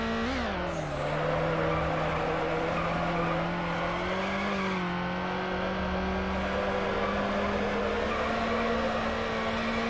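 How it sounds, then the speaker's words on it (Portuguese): Game car drifting in second gear in NFS Underground, likely a 240SX, with a steady high engine drone, a sliding pitch and continuous tire squeal throughout, loud and without talk. "Agora eu tô fazendo os drifts todos de segunda marcha"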